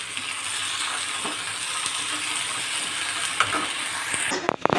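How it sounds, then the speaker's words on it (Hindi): Masala of ginger garlic paste and green chili paste frying in a pan, a steady close crackling sizzle running throughout with faint stirring clinks near the end. "जब तक ये हमारा मसाला भून रहा है"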